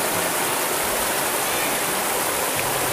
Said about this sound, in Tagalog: Yung agos ng ilog.